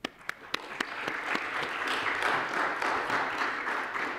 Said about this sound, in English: I'd just like us to give a round of applause to our panelists